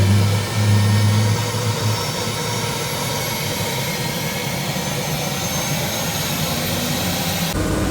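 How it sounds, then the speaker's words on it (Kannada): A helicopter at the Karkala festival starts up: a steady, loud turbine whine and broad engine roar hold throughout, with a low throbbing hum in the first seconds and a slight change near the end. "ಹೆಲಿಕಾಪ್ಟರ್ ಸ್ಟಾರ್ಟ್ ಆಡು ಇತ್ತೆ ಒಂದು ಮಿಂಟ್ ಪೋಪ"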